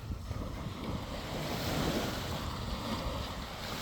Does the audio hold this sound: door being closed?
no